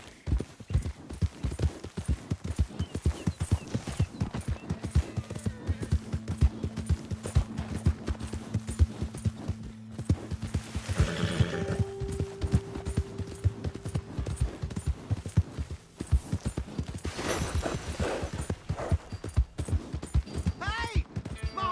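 Rapid hoofbeats of a horse galloping through the open world of Red Dead Redemption 2, a steady clip-clop rhythm running throughout, with game dialogue and other effects layered over it.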